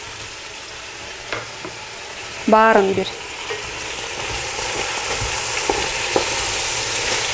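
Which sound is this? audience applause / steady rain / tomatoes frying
tomatoes frying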